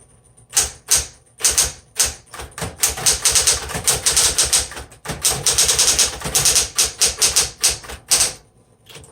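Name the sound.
electric typewriter typing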